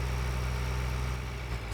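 Tractor engine idling in Farming Simulator 2013 on the Westbridge Hills map, a steady low rumble with no voices over it.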